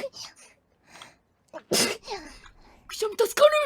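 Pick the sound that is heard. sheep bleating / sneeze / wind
sneeze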